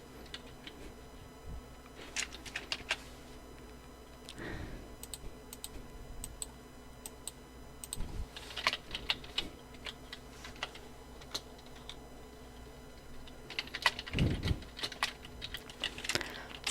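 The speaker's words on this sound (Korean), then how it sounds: "그 다음은 Enjoy Your Life 입력을 할게요" Computer keyboard typing in short scattered bursts of quiet key clicks, close by and faint, with no talking.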